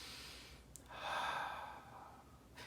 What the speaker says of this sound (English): Now take a big deep breath in.